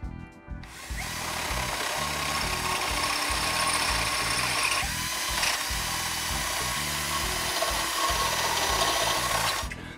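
Power drill boring out undersized holes in a pocket bike handlebar, running loud and steady for nearly the whole stretch with grinding, rasping bite into the metal and short uneven surges, no talk over it.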